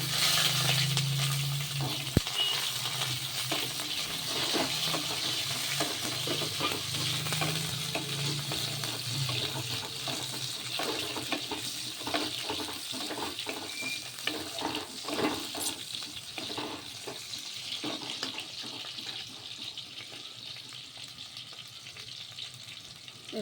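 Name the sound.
eggplant frying and being stirred in a pan with nigella seeds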